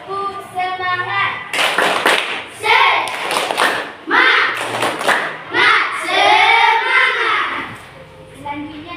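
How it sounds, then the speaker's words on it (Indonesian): Children in a classroom perform a rhythmic spirit clap, sharp hand claps in quick patterned bursts between stretches of a teacher's voice and kids chanting, fairly close and loud. "Tepuk semangat."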